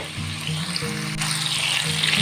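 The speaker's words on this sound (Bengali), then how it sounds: "আমি আলুগুলোকে মিডিয়াম টেম্পারেচারে হালকা করে ভেজে নেব" Potato pieces, peeled, washed and lightly salted, fry in oil at medium heat, giving a steady close sizzle with a few faint low bumps and clinks underneath.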